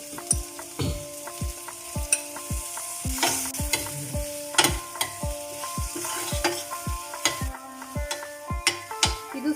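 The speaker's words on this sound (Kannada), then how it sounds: "ಇದು ಸ್ವಲ್ಪ ಹೊತ್ತು ಫ್ರೈ ಆದರೆ ಸಾಕು, ಜಾಸ್ತಿ ಹೊತ್ತೇನು ಬೇಡ" Marinated paneer fries in a pan with a constant close sizzle, while a spatula scrapes and knocks in a brisk, regular stirring rhythm throughout.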